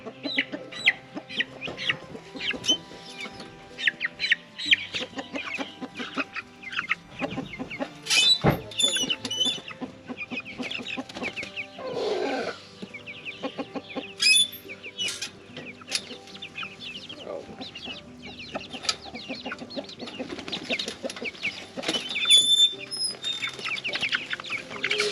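Several backyard chickens cluck repeatedly at close range in irregular bursts, with occasional brief louder squawks rising over a steady outdoor background.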